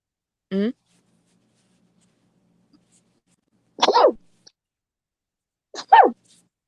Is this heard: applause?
no